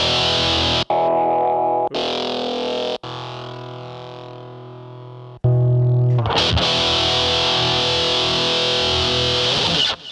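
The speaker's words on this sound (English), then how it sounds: "Sound number 4, or distortion number 4, says shred distortion." An electric guitar runs through the shred distortion setting of a KORG G1 guitar distortion processor at maximum gain, ringing out heavily saturated sustained chords with abrupt cuts between them and a brighter, buzzier chord near the end.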